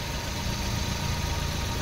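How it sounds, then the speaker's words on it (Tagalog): Suzuki DA64V van with a K6A engine idling smoothly and steadily after an idle air control valve replacement, a continuous low rumble that stays close and even throughout, with no talk. "Pakinggan nyo mabuti. Sobrang relax na ang andar ng makina ngayon."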